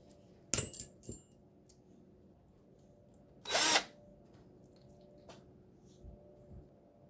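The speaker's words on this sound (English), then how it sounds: "we got the screws out of the portal axle" A power drill backs screws out of a metal portal axle on a Traxxas TRX-4 RC crawler, giving two short, close bursts a few seconds apart with quiet, small clicks and handling noise between them.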